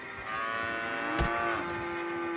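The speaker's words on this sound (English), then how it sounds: "Can I skin a cow? That cow just looks like it's sleeping." A single cow in Red Dead Redemption 2 gives a long, steady moo with rich harmonics, fairly close and clear, holding for about two seconds alone without talk.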